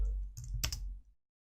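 A short burst of typing on a computer keyboard while entering a Linux command to build a cluster server, a few quick clicks close by, then silence.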